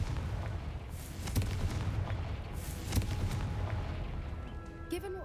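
Confringo fire blast spell in the video game Hogwarts Legacy, with booming explosive bursts over a dense rumbling background and a couple of sharp cracks standing out loud and close.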